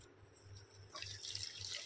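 Water is poured into a pan for cooking Maggi egg noodles, a faint splashing stream that starts about halfway through and continues quietly to the end.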